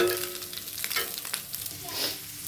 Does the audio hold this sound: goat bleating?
no